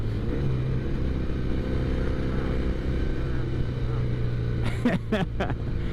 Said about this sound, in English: I think it is a little bit faster than the Norton with the bigger engine.